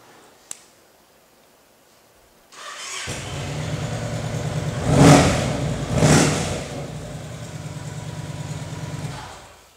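A Yamaha Stratoliner S cruiser motorcycle starts up after a short click and settles into a steady idle, with two strong revs swelling mid-clip before the engine drops back to a rumbling idle until it shuts off.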